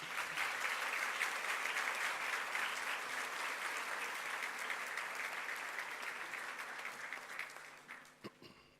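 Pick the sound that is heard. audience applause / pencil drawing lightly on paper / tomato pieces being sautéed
audience applause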